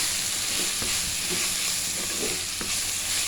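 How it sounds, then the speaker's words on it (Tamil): Grated carrot and cabbage fry in a clay pot with a steady, close sizzle, broken by occasional light taps and scrapes as the vegetables are stirred. "அதோட துருவின கேரட்டு, முட்டைக்கோஸ் சேர்த்துக்கலாம். முட்டைக்கோசும் கேரட்டும் வேகட்டும். நல்லா கிண்டி விட்டுக்குவோம்"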